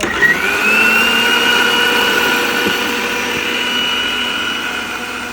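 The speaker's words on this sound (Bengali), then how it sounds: "এবার আমরা ভালোভাবে ব্লেন্ডার করে নেব" A kitchen blender whirs continuously while blending radish leaves into juice, a loud steady motor hum that rises in pitch at the start and runs evenly to the end.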